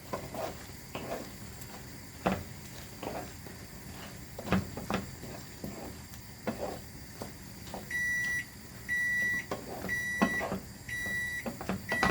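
A kitchen timer goes off while chicken jalfrezi cooks, sounding four evenly spaced electronic beeps near the end after scattered clatter of utensils and pans.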